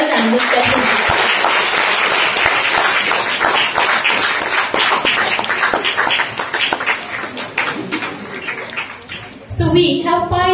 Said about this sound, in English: I'll ask all of you to clap once again for all the winners and the special guests.